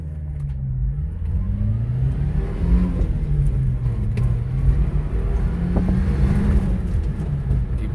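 A 4x4 mini truck's carbureted engine runs steadily nearby, with a low droning idle that rises and falls in pitch as it revs several times. Nobody talks.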